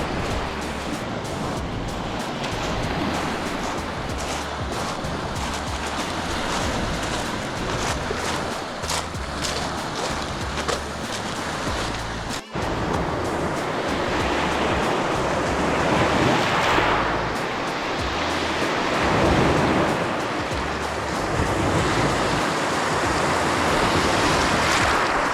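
Lake Superior waves wash onto a beach at Calumet Waterworks Park on the Keweenaw Peninsula, a continuous loud roar of surf with wind buffeting the microphone and a brief break partway through.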